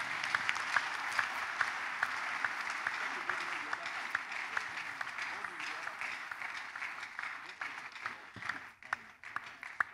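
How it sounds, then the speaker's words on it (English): A church congregation claps steadily throughout, a dense, continuous patter of many hands at moderate level, with a voice speaking faintly beneath at times. "clap better to the glory of God."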